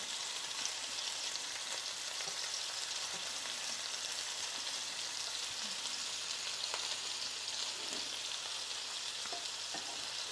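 Meatballs fry in a greasy pan, giving a steady, dense crackle and hiss of spattering fat with scattered sharp pops, heard on its own without talk.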